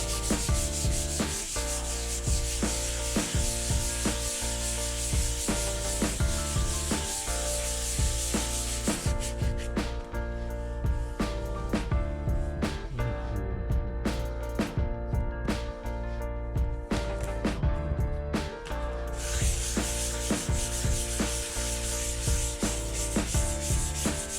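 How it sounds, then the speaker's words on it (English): A wooden painting panel is hand-sanded in a corner studio with long, rhythmic rubbing strokes of sandpaper on wood, loud and close with a brief lighter stretch midway, no talking. "Now it's time to sand the thing, and that feels like it takes forever."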